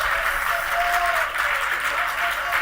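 A church congregation claps together in praise during worship, loud, dense and continuous applause from a large group, with a faint tonal sound above it.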